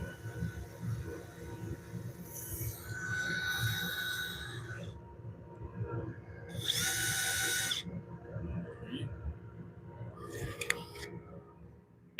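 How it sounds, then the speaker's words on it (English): A wooden bowl is sanded on a lathe running in reverse: a steady low whirring motor runs throughout while bursts of abrasive hissing scratch against wood, coming and going in a few short passes. "A little reverse sanding action on there to make it a little bit better."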